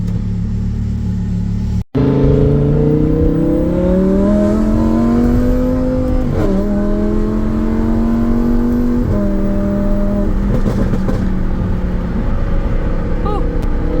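A Lamborghini Huracan with gutted catalytic converters and a flame tune revs hard, its engine note climbing and falling in steady pulls with sharp exhaust pops and crackles between, loud and close; a voice talks briefly.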